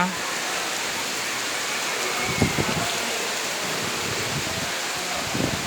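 Heavy rain pours steadily outdoors among trees in a rice-farming village, a constant dense hiss throughout with a few faint low thumps.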